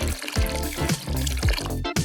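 Old bathwater sloshes and splashes as a doll's hair is washed in it, a busy, close watery churn with brief pauses between scoops and pours.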